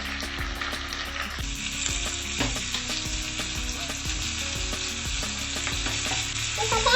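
Onions and tomatoes sizzle steadily in a hot pan for a fish stew, with intermittent clinks of a utensil stirring, close up and with no talk.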